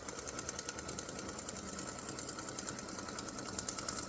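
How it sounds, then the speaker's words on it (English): An embroidery machine stitching the first part of an appliqué Christmas gnome hat over Mylar, producing a steady, continuous mechanical whir with rapid needle patter throughout, moderately faint and without pauses. "I'm going to stitch the first part of the hat"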